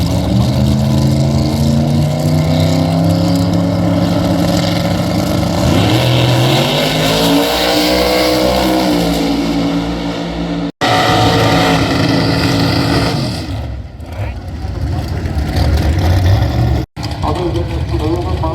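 A jet-powered truck with a wheelie bar making a 220 mph drag racing run, a loud, sustained roaring engine blast that swells and shifts in pitch, cut by brief dropouts, with crowd or commentary voices mixed underneath.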